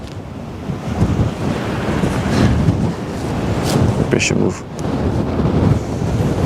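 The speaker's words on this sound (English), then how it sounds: "Wow, the wind is really blasting us now." Strong wind buffets the microphone by the Westerschelde waterway, a loud continuous rumbling roar with gusts, under a man's brief speech.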